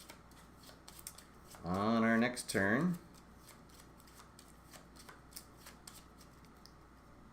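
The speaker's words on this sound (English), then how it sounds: "Shuffle up the cards and see how we do" A deck of cards is shuffled during a Planet Flipper board game, a short riffling burst of about a second that stands alone between quiet stretches, with a person speaking briefly just after.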